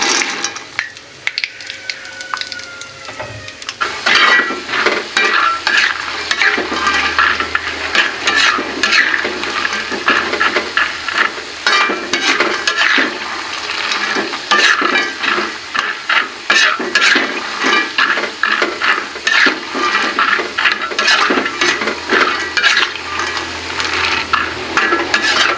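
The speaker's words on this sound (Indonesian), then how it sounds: "kita goreng dulu kacangnya" Peanuts fry in a pan, a continuous loud close sizzle with scraping stirring strokes running throughout.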